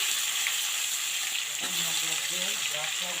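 Potatoes and tomatoes fry in oil with a dried-chili tempering for a home-style sea fish curry. A steady, close sizzle runs throughout, and a faint voice speaks under it in the second half.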